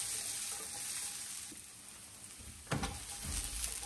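Bell peppers sauté quietly in a frying pan, giving a soft, low sizzle, broken near the end by a short clatter of stirring before the hiss resumes.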